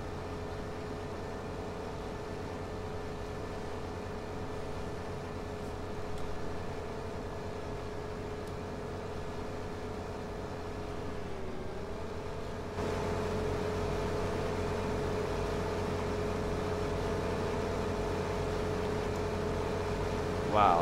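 A tractor engine in Farming Simulator 15 drones at a constant steady pitch, a continuous mechanical hum that shifts slightly and grows louder partway through, with brief talk over it.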